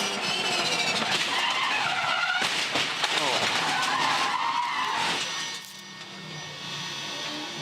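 A V8 Supercar races downhill with engine roar and loud tyre skidding before crashing into the tyre wall, the noise cutting off abruptly near the end, with commentators talking over it.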